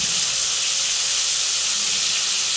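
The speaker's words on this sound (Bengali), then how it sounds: "এবার আমি পটলগুলো এক এক করে তেলে দিয়ে ভেজে নেব।" Pointed gourds (potol) frying in hot oil give a steady, loud, even hiss of sizzling that runs through the whole stretch without breaks or talk.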